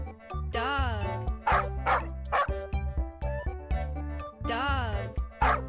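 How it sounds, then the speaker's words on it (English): Dog barking in a children's animal-sounds lesson, several sharp yips and bow-wows in irregular bursts over a musical backing. "Dog."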